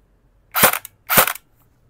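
Two sharp bursts from a Slong AEG airsoft rifle firing during a chronograph check, each a short crackling volley about half a second apart, close and loud in a quiet room.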